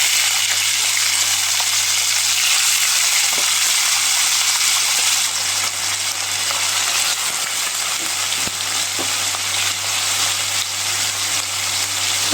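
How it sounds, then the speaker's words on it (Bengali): Chopped vegetables frying in oil with chilli in a pan give a steady, dense sizzle that holds loud and even throughout, with faint clinks now and then. "এই যে কুচরিটাকে আমি কেটে ধুয়ে রেখেছি, এটাকে ভাজা করি।"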